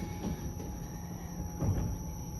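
A Line 5 Eglinton Crosstown LRT train sounds at a quiet station on a Sunday evening, with a steady low rumble and a couple of soft clunks as it passes nearby.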